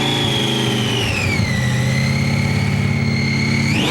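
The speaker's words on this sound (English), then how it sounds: "we can get him to rev it up" A hot rod engine revs loudly and close up, a dense harmonic roar that falls, holds steady, then surges sharply upward at the end, with no talk.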